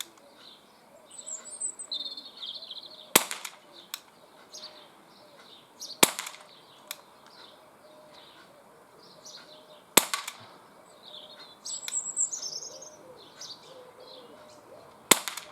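An Umarex Walther PPQ CO2 pistol with an 8-shot rotary magazine fires outdoors, four sharp, loud cracks spaced a few seconds apart, with birds chirping steadily in the background.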